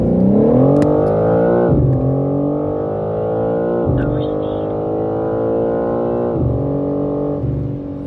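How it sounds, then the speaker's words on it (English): Interior view of a 2025 BMW M4 Competition with an automatic transmission, its engine rising in pitch through several quick upshifts, each gear pulling a loud, sustained drone that drops briefly at the shift and climbs again. "Take a listen to this car from the interior real quick."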